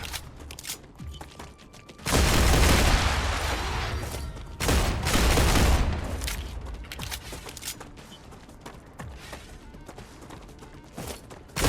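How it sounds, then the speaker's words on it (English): Pistol in the StarRupture video game firing in rapid succession, two dense, loud bursts of quick shots separated by quieter game ambience with faint clicks and mechanical sounds. "I do like the rapid succession on the pistol."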